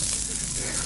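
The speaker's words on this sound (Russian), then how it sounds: "Жарят два больших стейка." Two large steaks sizzle on a grill at a Russian off-road jeep gathering, a steady, close, broadband hiss with no pauses through the short stretch.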